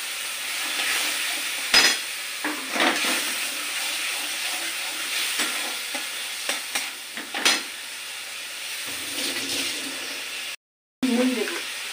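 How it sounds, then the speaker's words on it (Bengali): Onion, green chili paste and garlic paste sizzling in a hot spice tempering, a constant frying hiss with scattered spoon scrapes and knocks, close by, broken by a brief cut to silence near the end. "এই ফোড়নের মধ্যে পেঁয়াজ কাঁচা লঙ্কা বাটা রসুন বাটা দিচ্ছি"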